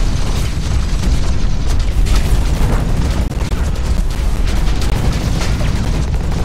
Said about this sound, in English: Shooting at my own guy.